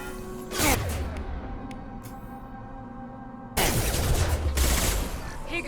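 Bursts of gunfire in the video game Mass Effect 2, two loud sustained volleys of rapid shots separated by a quieter stretch of background hum, close and sharp.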